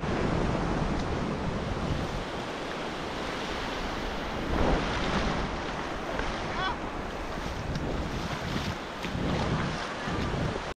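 Ocean waves wash onto a beach in a steady, roaring surf, thickly mixed with strong wind buffeting the microphone for the whole stretch, with no voices.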